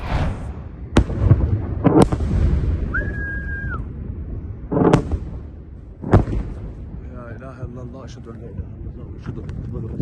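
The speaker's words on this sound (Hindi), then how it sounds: "ईरान की क्लस्टर मिसाइलें इजराइल पर गिरी" Iranian cluster munitions strike in Israel at night. Several sharp, loud blasts and pops come in an irregular sequence, with a brief whistling tone between them and voices in the background.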